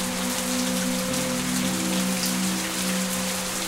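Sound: rain falling in the video game The Path

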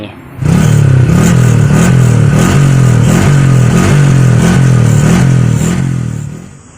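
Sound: Honda Wave 125i motorcycle with modified exhaust revving

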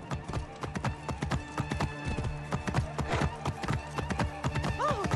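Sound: horse hooves clip-clopping in video game Assassin's Creed Origins

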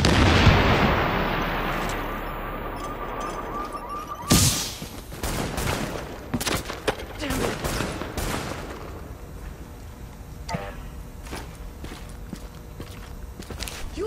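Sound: gunfire and explosions in the video game Tom Clancy's The Division

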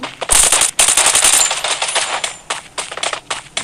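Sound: gunfire from AM rifle in Free Fire video game

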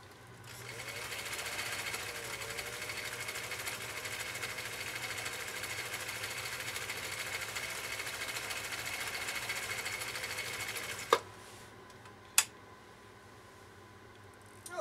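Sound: Brother sewing machine stitching a decorative stitch

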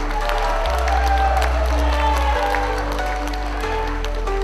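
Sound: audience applause at a youth conference

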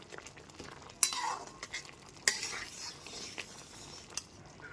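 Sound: stirring garam masala powder into chana dal

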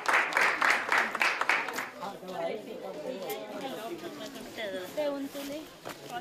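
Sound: group applause

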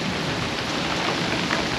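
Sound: rain falling during a storm at sea on a sailing catamaran

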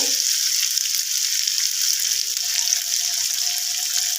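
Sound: washing a spice bowl under running water

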